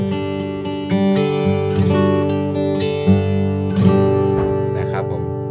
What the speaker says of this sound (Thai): ตอนนี้เป็นเสียงกีตาร์โปร่งเปล่าๆนะครับ